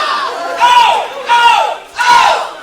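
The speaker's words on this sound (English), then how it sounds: "This crowd chanting once again for the Big O" A loud indoor wrestling crowd chants the same short rhythmic phrase three times in a row, each chant a sustained, deafening swell of many voices with brief dips between.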